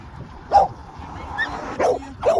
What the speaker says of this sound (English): my dogs are so loud